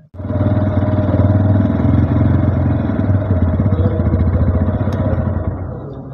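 A Honda Hornet 125 motorcycle engine runs close by, a steady, loud mechanical drone with a fine, rapid pulsing that holds throughout without talk.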